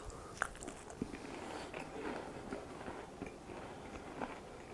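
Someone bites into and chews crunchy, sweet fried dough studded with apple chunks, giving repeated close crunches and soft chewing sounds over about five seconds.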